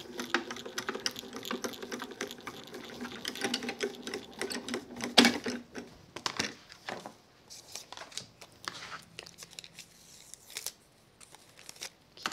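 Stamped card stock sandwiched in plates is cranked through a die-cutting machine for an Art Deco style card, giving a busy run of clicking, ratcheting mechanical noise that thins out into sparser, quieter clicks toward the end.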